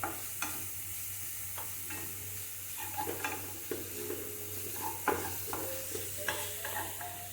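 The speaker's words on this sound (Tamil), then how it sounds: "உப்பு போட்டு பண்ணா கொஞ்சம் சீக்கிரமா ஆகும். வதங்கும். பீன்ஸ் போடு." Beans sauté in a salted pan with a gentle, continuous sizzle under repeated scraping and clinking of a spoon against the pan in an uneven rhythm.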